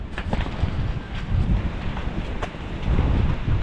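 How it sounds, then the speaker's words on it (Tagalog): Strong typhoon wind buffeting the microphone in loud gusts, a continuous low roar with rushing bursts and faint rustling throughout, near banana plants. "Lakas ang hangin."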